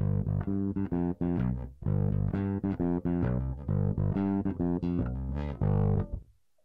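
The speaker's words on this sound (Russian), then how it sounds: "Включаем на компрессоре." An electric bass runs through the compressor section of a handmade CardBass pedal by CardElectronic, playing a riff of sustained, evenly leveled notes with short gaps before a final held note fades out, with no talking.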